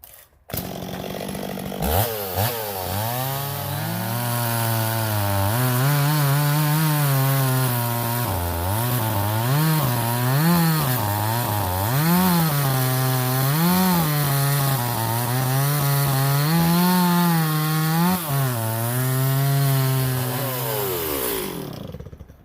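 A chainsaw engine runs close and loud, its pitch wavering and stuttering unevenly as it misfires, before cutting off at the end.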